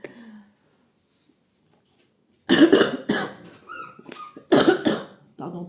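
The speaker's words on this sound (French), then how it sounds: "Pardon pour la toux." Two loud, close coughing fits from a person recovering from illness, a couple of seconds apart, each a harsh cluster of hacking bursts after a brief quiet stretch.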